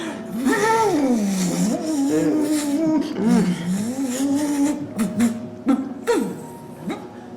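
A voice imitates a vacuum cleaner with a wavering, moaning rumble, rising and falling, broken by short vocal bursts toward the end.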